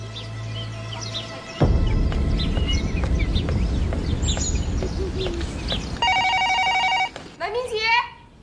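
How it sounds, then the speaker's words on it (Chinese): A telephone rings for a long-distance call in a Chinese family drama scene: a short, clear electronic ring near the end, after a stretch of busy background noise with chirping birds and voices. "南明杰，南明杰，长途电话。"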